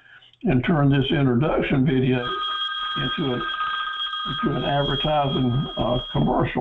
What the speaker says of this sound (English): So excuse the phone rings.